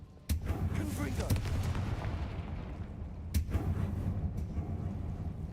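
Confringo explosive spell cast in the Hogwarts Legacy video game: a sudden blast followed by a rumbling roar, then a second burst a few seconds later, with spoken voice mixed in.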